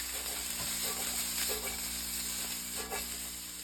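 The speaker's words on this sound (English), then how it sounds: "Take them boys, dump them in. You're gonna want to saute them until they're just barely brown." About four and a half cups of vegetables sauté in olive oil in a hot pan for bierocks, producing a soft, steady sizzle over a constant background hum, with occasional faint stirring.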